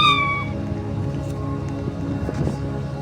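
A cat gives a single short, high meow right at the start, over a constant low rumble of background noise in a game setting.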